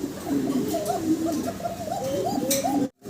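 Fancy pigeons cooing close by in a loft, with repeated soft, rolling coos that overlap for a few seconds before cutting off abruptly.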